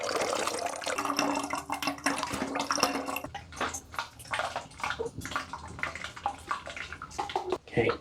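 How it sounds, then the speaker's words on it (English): A sugar and jam mixture pours through a funnel into a 2-litre plastic bottle, a continuous splashing, gurgling liquid stream up close that turns more broken and trickling toward the end. "In with the funnel and pour it in."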